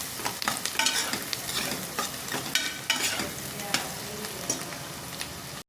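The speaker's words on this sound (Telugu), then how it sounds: "ఇవి లైట్ గోల్డెన్ కలర్ వచ్చేదాకా ఫ్రై చేసుకోవాలి" Ingredients for boti curry frying in a pan, a steady close sizzle broken by repeated scraping stir strokes, with no voices.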